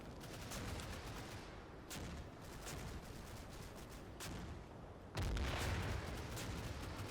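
Mortar shells land in a war video game, a steady rumble of distant gunfire and impacts with several heavier blasts, one big close boom near the end, no speech.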